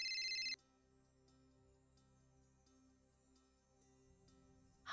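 A phone ringtone sounding briefly at the start, a bright electronic tone that cuts off quickly, leaving faint low hum and a soft quiet room afterward.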